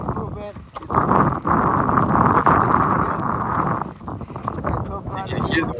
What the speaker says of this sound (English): Look at how windy it is. It's so windy.